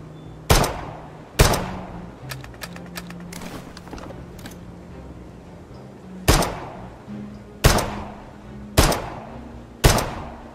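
Gunfire in an Uncharted-style shooter video game: sharp, loud single shots spaced irregularly, with a cluster of quicker, lighter clicks and impacts between them over a steady low game hum.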